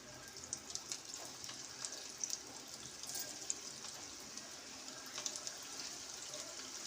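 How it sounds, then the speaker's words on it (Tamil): Raw banana kola balls fry in oil with a soft, steady sizzle and crackle and small scattered pops. The sound is faint and continuous, with no voices over it. "இந்த கோலை உருண்டையை அந்த எண்ணெயில் போட்டு பொரிச்சிக்கலாம்"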